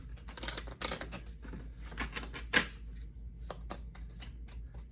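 A deck of tarot cards being shuffled by hand close up, a series of crisp riffling bursts and soft flicks at uneven intervals, with one sharper snap partway through and no talking.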